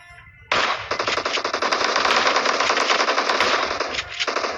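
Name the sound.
gunfire in the video game PUBG Mobile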